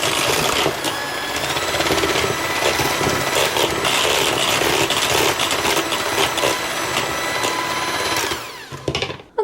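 An electric mixer whirs steadily through golden brownie batter with a freshly added egg, a loud buzzing hum that runs continuously before cutting off near the end.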